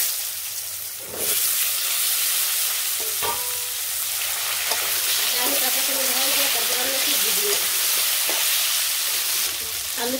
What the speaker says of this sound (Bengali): এই পাশে আমার এই যে আলু ভাজা হয়ে গেছে